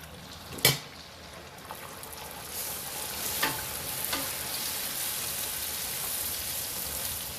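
Puri dough drops into hot oil in a kadai and fries with a steady, fairly loud sizzle and crackle, opening with a sharp splash, then holding a dense hiss with a few bright pops.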